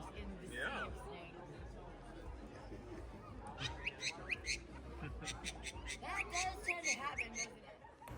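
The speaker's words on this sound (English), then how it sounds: "Just listen to this bird talk." A pet bird chattering and squawking in bursts at a busy reptile expo, with sharp chirps and talking-like calls rising over a steady crowd babble and nearby voices.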